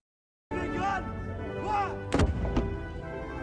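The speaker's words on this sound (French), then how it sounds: "Les fameux canons." A sharp cannon blast in Malta cuts through nearby chatter, followed moments later by a second, smaller bang as voices continue.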